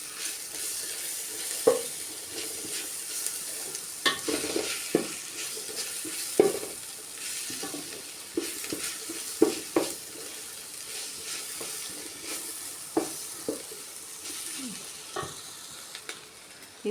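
Chopped onions fry in oil for a Kerala tapioca and beef dish, a soft steady sizzle running throughout, broken by periodic clinks and scrapes of a spoon stirring the pan, close up with no talking.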